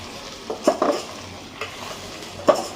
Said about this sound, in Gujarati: થોડી હલાવી દઈશું આવી રીતે મિક્સ કરી નાખવાનું